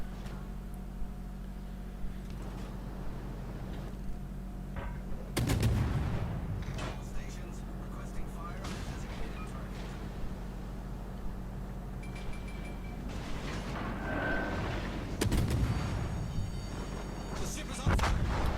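Naval gunfire from a Fubuki, a Tier V Japanese destroyer in World of Warships, sounds as a few sharp booming salvos over a steady low engine and sea rumble, with bursts near the middle and the end.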